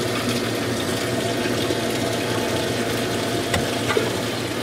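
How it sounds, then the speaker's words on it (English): A Turbo Aquatics L2 algae scrubber's aquarium pump pushes water upward in a steady, close, continuous rushing and gurgling flow with one or two small splashes. "And water's now being pumped up into the scrubber."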